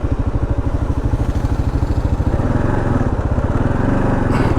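A Kawasaki KLR650 single-cylinder motorcycle crawling slowly in first gear on backwoods trails in Georgia, its engine thumping in a steady loud close-up rhythm throughout, with no talk.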